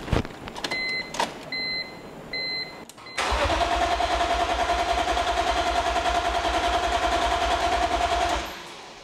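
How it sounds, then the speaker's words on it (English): On a BMW E46 M3, chimes and a faint electric whine from the fuel pump priming give way to the engine cranking, a loud, steady grinding churn close by that runs for several seconds before stopping. "I hear the fuel priming more."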